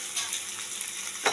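Boiled potatoes with onion and tomato frying in a pan give a steady, close sizzle with a brief stirring scrape near the end, and no one speaks.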